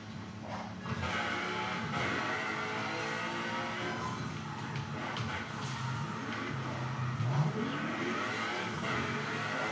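Racing car in the Paradise City online driving game, engine droning and revving steadily as it accelerates, loud and continuous throughout with a rising pitch sweep near the end and no talking.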